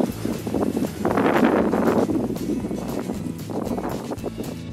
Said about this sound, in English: So we're on a boat in Copenhagen. It's this electric boat.